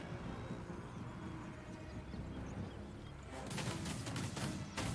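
Skaven units fire in Total War: Warhammer 2, soft distant battle rumble building into a burst of crackling, rapid gunfire shots near the end.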